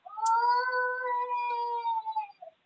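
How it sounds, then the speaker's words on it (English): A two-year-old child cries in the background with a sustained, wavering wail lasting a couple of seconds, then trails off into a short whimper. No one talks over it. "I don't know if you guys can hear this crying 2-year-old in the background"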